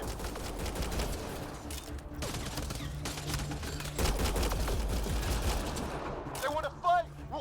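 Gunfire in the video game Mass Effect Andromeda, a continuous, crackling fusillade of shots at steady loudness, with voices shouting over the fighting.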